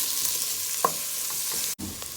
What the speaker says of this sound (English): we're gonna cook this onion until they're translucent